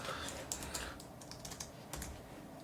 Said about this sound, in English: So we could type in ADHD for interests.